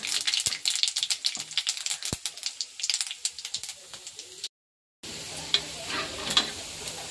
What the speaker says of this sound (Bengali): তো এখন কড়াটা বসিয়ে দিয়েছি, গোটা জিরে দিয়ে দিচ্ছি।